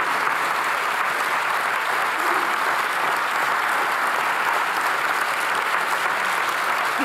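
Steady, dense applause from a large conference audience fills the room at moderate loudness, continuous and unbroken for several seconds with no voices over it.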